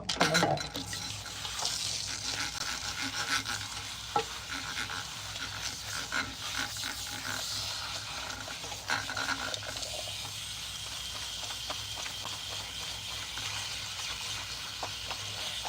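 Water runs steadily over hair at a salon shampoo sink during a rinse, a continuous broadband splash and hiss lasting throughout, with faint handling noises and no clear speech.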